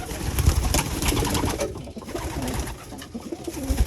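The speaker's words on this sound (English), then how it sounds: "I'm just making a quick video of the stock birds." Stock pigeons coo in a loft, low soft repeated calls close to the microphone, with some rustling and a faint voice.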